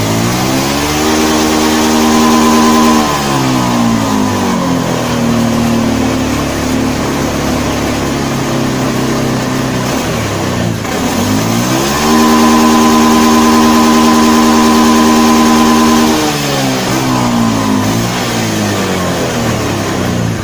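Honda Beat FI scooter engine that loses power under throttle, revved repeatedly in long pulls that climb to a high, steady drone and fall back, with brief drops toward idle between them, loud and close.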